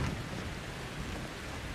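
Heavy, steady downpour in the horror video game Outlast 2, a dense broadband wash of rain falling evenly and close throughout, with no voices.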